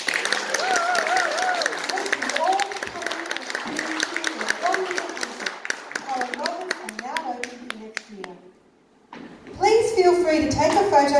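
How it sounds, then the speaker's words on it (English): Audience clapping at a dance concert, crisp and continuous with voices mixed in, fading to a brief lull before talking and movement resume. "him another round of applause."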